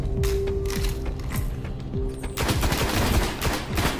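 Rapid automatic gunfire in the video game Destiny, loud and continuous, with a denser volley of shots in the second half and no talk over it.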